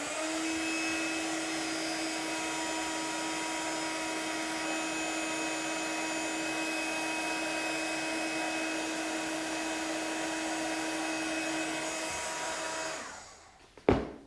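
Heat tool melting embossing powder on a card, a steady close whirring blower hum with a faint whine, running unbroken for over twelve seconds before winding down and clicking off.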